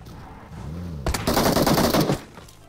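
A burst of rapid automatic gunfire in a shooter video game, loud and close, rattling for about a second after a brief lead-in, with no talk over it.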